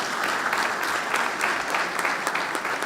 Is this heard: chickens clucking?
no